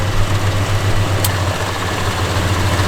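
A 1972 Chevrolet Chevelle SS idling, a steady low engine rumble holding evenly throughout with a constant deep hum, close and fairly loud, no talking.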